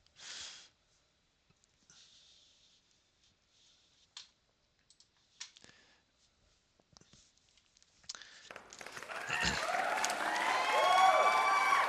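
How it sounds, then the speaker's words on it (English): After a few seconds of quiet clicks, applause swells in and builds into sustained clapping with cheering for the final few seconds. "Thank you kindly for that applause."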